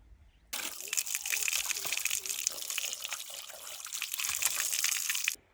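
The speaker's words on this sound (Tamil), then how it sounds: "இப்போ காடையை கழுவி எடுத்துக்கலாம்." Quail being rinsed under running water, a steady gush and splash from a tap lasting several seconds, close and fairly loud, with no speech.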